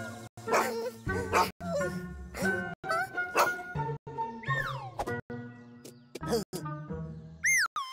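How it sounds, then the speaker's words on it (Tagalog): A dog barking repeatedly in quick, agitated bursts with yips and whines, close and loud, with short pauses between barks. "Hinabol ng aso ang mga magkaibigan"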